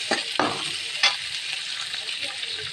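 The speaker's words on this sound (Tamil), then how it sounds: "கடுகு பொரிஞ்சதும் கொஞ்சமாக வெங்காயம், வெங்காயம் வதங்கினதும் தக்காளி" Onion and tomato sauté in hot oil after mustard seeds splutter, cooking for a Tamil-style native brinjal thokku; a steady close sizzle with a few sharp scrapes and crackles from stirring, no talk.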